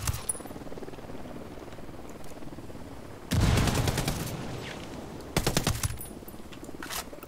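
Gunfire rings out in the Ghost Recon Wildlands video game, two sharp bursts of rapid rattling shots a couple of seconds apart, loud and close against a quiet ambient background.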